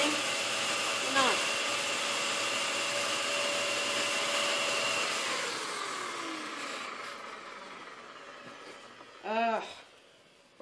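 A vacuum cleaner runs on carpet with dirt spinning in its bin. A loud, steady motor whine holds for several seconds, then winds down and fades. A brief chirping sweep and a clunk follow near the end.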